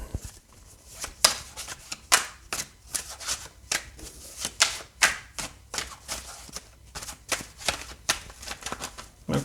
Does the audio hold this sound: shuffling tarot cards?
yes